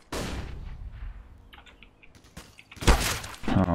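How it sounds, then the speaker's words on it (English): A flashbang grenade goes off in Counter-Strike: Global Offensive, a sharp loud burst near the end after scattered clicks and thuds of in-game movement, with a ringing tone trailing right after. "I am throwing a flashbang."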